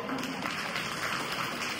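An audience at a Buddhist sermon gathering applauds in a continuous, dense wash of clapping that holds at an even level throughout.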